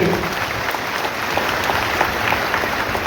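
An audience claps steadily at a children's talent award ceremony, a dense, even wash of applause from a crowd close by that holds at the same level throughout.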